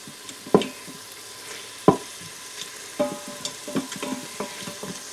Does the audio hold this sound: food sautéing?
yes